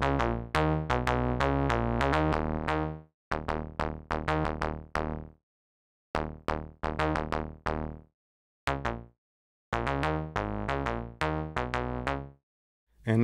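Upper bass layer soloed on a Maschine MK3 with a high-pass filter, playing short repeated plucky notes in a steady rhythmic pattern broken by gaps, clear and alone.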